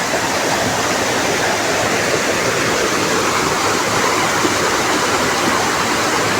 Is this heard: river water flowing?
yes